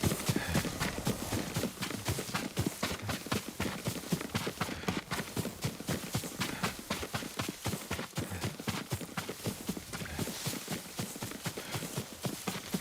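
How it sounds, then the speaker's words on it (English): Horse hooves clip-clopping steadily in the Ghost of Tsushima video game, a continuous rhythmic trot of evenly spaced hoof strikes, close and fairly loud throughout with no talk. "Yuriko's horse. She can't be far."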